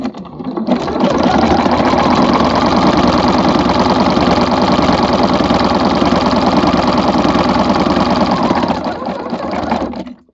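A quilting sewing machine fitted with a walking foot runs steadily and loud at close range, its fast, even mechanical hum carrying on for about nine seconds before slowing at the end.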